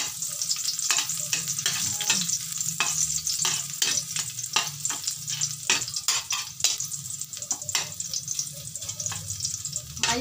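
Garlic frying in a pan for a home-cooked dish, a steady loud sizzle throughout with repeated sharp scraping clicks of a utensil stirring against the pan.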